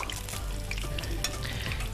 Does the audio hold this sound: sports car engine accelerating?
no